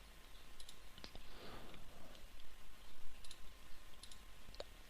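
Mouse clicks while working in See Electrical electrical design software: a few sharp, faint, isolated clicks spread across a quiet room background.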